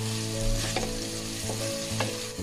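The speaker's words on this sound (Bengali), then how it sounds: "পেঁয়াজটা আমি হালকা গোল্ডেন করে ভেজে নিব" Chopped onion with salt fries in hot oil, a dense continuous sizzle with a low steady hum underneath and a few brief scraping stirs, close and alone without talk.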